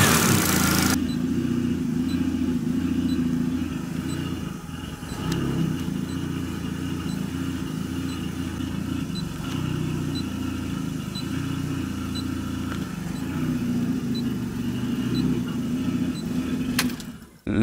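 A modified Abarth car engine idling unstably after being started, a low steady mechanical drone with slight fluctuations running throughout, ending in a brief clunk near the end; no one speaks.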